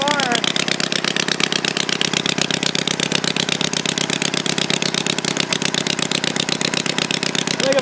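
A homemade twin-cylinder Briggs engine runs with both cylinders firing, a loud, close, rapid chugging rattle that stays even throughout.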